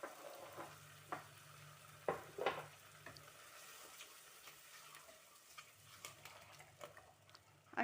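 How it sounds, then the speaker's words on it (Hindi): A paste of three medium tomatoes fries with spices in oil, giving a faint continuous sizzle with occasional soft stirring clicks and scrapes against the pan, quiet and close, without talk. "अब टमाटर की पेस्ट को भी हम तब तक भून लेंगे जब तक कि ऑयल सरफेस पे नहीं आ जाता"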